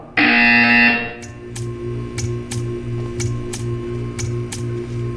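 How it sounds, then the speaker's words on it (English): In the video game Portal 2, a loud harsh buzzer blares for about a second, then gives way to a steady hum with sharp rhythmic ticks repeating evenly, heard without talk. "You will hear a buzzer."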